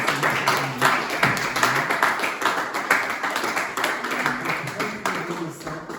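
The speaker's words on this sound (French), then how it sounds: "Est-ce qu'on peut applaudir?" Clapping from a French-speaking church congregation, a continuous patter of hand claps of moderate loudness with some voices mixed in.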